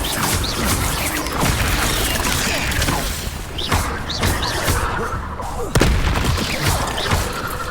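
Spell effects crackle and boom repeatedly in a Hogwarts Legacy combat scene as the Incendio fire spell is cast, loud dense bursts and thuds layered over game music and mechanisms, with a voice calling out spell names.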